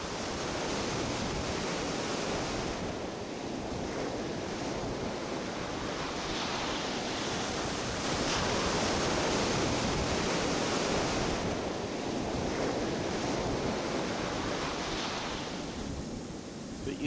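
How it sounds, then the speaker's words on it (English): Strong wind roars across the microphone on Chesil Beach while waves break and wash on the shingle, a dense continuous surge with slow swells in loudness and no voices. "It is really windy."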